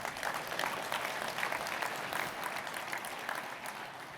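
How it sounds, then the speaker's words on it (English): A seated audience at a motivational talk bursts into steady, dense applause that holds evenly throughout, close and full, with no voices over it. "Give yourselves a round of applause for that."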